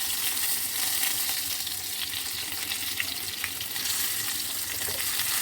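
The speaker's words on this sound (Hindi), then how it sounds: "अब इसमें तमाम बैगन शामिल कर दें और इनको ऑयल में फ्राई होने दें" Whole brinjals fry in mustard oil with curry leaves and dried red chillies, a loud, continuous close sizzle with faint crackles throughout, no voices.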